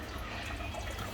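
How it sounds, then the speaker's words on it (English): Coolant drains from a drain plug on a Jaguar XJR radiator into a bucket, a continuous rushing, splashing flow that is steady and moderately close, without speech. "we are officially draining the coolant"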